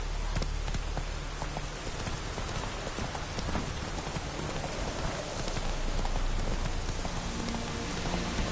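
Roach the horse trots through The Witcher 3 in steady rain, her hooves clip-clopping in an even rhythm beneath the constant patter of raindrops.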